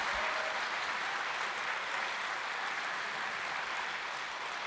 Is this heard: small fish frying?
no